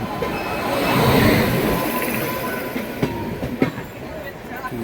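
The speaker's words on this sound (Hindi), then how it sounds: "यहाँ सामने से हमें क्रॉस हो रही है बरौनी नई दिल्ली क्लोन स्पेशल" The Barauni–New Delhi clone special train passes close by on the opposite track, a loud, steady rumble of wheels with clacking joints and some squeal, heard from inside a moving train.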